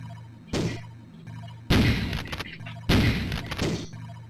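Gunfire in the Amiga 600 game Syndicate: three sharp, loud shots in a row, each a burst of broadband noise with a short decaying tail, over a low electronic hum.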